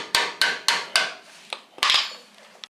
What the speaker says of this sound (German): kann man ja auch hier mal einen Schlag mit dem Hammer drauf machen